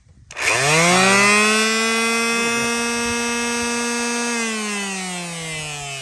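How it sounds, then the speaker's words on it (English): An orbital sander powered through a solar setup's DC-to-AC inverter runs alone at close range, a steady motor whine that spins up quickly and holds an even pitch with a slight dip near the end. "I got this plugged into my orbital sander"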